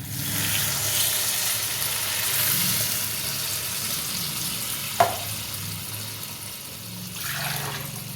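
Water splashes into a hot pan of cooked-down spiced curry masala for vegetarian paneer kofta, giving a steady broad hiss and bubbling with a sharp clink near the middle and a rising gush toward the end.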